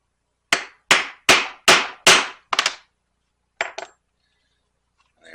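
A hammer strikes rivets into a hair-on leather knife sheath: a quick run of five or six sharp, ringing taps, a pause, then two lighter taps, close and alone.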